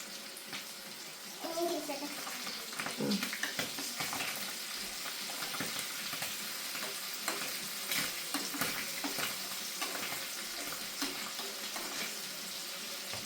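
Food fries in a pan in a home kitchen, a steady close sizzle with scattered crackles and scraping stirs, faint voices now and then underneath.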